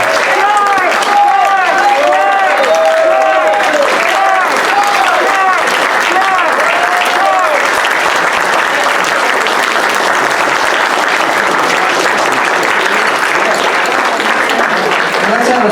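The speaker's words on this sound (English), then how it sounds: "So anyway, full ovation for everybody here." Loud, sustained audience applause at a volunteer appreciation breakfast, a full standing ovation of dense clapping that fills the room from start to finish.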